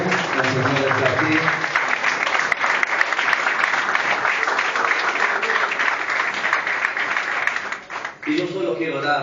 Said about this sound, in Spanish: denle un fuerte aplauso al Rey de la Gloria